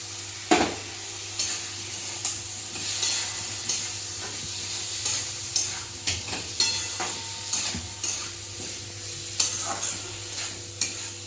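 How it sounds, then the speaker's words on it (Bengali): Cumin, coriander, turmeric and chili powder fry in a pan, sizzling steadily while a utensil stirs and scrapes in a regular rhythm of soft knocks, with no talking. "জিরে ধনেটা দিয়ে কষিয়ে নিয়েছি, এবারে হলুদ আর লঙ্কা গুঁড়ো দিয়ে দিলাম।"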